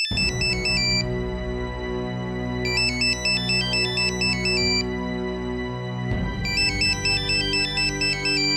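An incoming call on a phone plays a loud electronic ringtone, a bright repeating melodic phrase in three bursts with short gaps, alone without talk.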